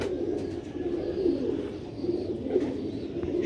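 Pigeons on a rooftop coo in soft, repeated throaty rolls that overlap at close range, with faint background noise around them.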